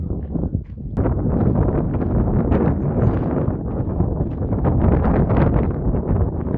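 Strong wind buffets and roars steadily over Connemara coastal cliffs in Ireland, a loud rushing blustery sound with gusty swells and no voices.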